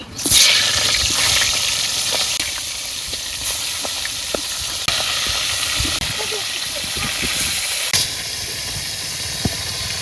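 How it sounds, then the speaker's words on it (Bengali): Fish pieces rubbed with turmeric and salt hit hot oil in a wok, setting off a sudden loud burst of hissing sizzle that settles into steady frying crackle, with occasional clicks and a voice nearby. "এবার আমি মাছগুলো দিয়ে দেই"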